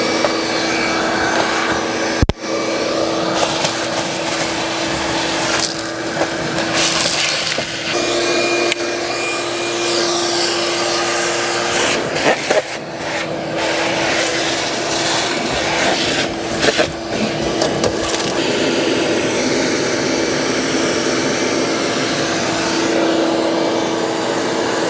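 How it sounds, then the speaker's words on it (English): A vacuum cleaner works inside a 1966 Ford Fairlane 500, a steady droning whine that runs close and loud the whole time, with thumps and shifts in pitch as the nozzle moves around the interior. "So let's get this thing vacuumed out."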